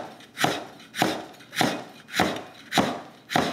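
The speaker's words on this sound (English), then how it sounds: "Got a little bit of ginger that was left over from one of the other dishes that we filmed, so don't waste it. Just gonna take thin slices." A kitchen knife slices leftover ginger into thin pieces on a cutting board, six crisp, evenly spaced chops about every half second, close and clear with no talking.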